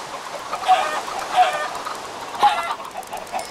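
A chicken in the Minecraft video game gives several short, clear clucks at uneven intervals, each one a distinct burst against a quiet background.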